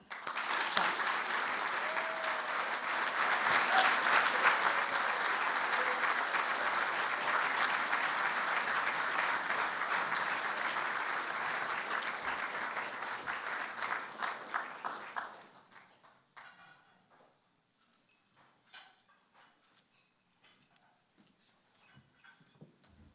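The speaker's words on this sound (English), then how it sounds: "Join me in giving a big round of applause to our 2022 Domestic Aubuchon honoree, Josh Renaud" Dense applause from a gala audience honoring an award recipient at the Fourth Estate Award Gala, steady for about fifteen seconds before dying away to a few scattered claps and near silence.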